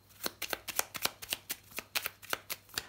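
A deck of numerology oracle cards being shuffled by hand: a steady series of crisp riffling snaps and flutters, close and clear, about a dozen bursts in quick rhythm with no voices.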